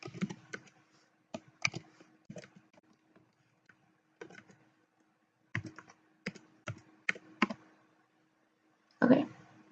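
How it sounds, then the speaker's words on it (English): An email address is typed on a computer keyboard in quick irregular bursts of clicky keystrokes with short pauses between them, close and fairly quiet, ending with one heavier key press. "so I'm going to type in my email in the value box here"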